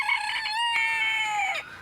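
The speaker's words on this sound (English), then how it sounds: "You might have heard that roosters crow at the break of dawn." A rooster crows once on a working farm, a loud, close, drawn-out cock-a-doodle-doo with a bright wavering tone that fades at the end, heard alone against a quiet background.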